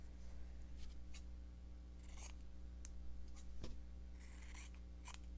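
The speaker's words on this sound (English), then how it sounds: "I think I want to make a little chimney to that, so I'll just cut a piece of that fabric." Scissors snip through a piece of fabric while a small felt chimney is made for a stitched gingerbread house in a Christmas fabric book, giving several short, faint crisp cuts spaced out over a quiet background.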